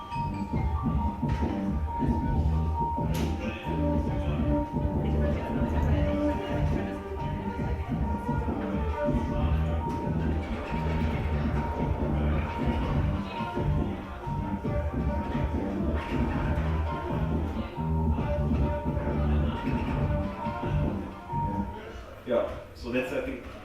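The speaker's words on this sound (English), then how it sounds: "and then I put some delay to my channel 4, which I'm scratching through" Scratched channel loop run through a delay effect in an Ableton live-looping set, a dense continuous mix of layered beats and echoing tones playing loudly throughout with no pauses.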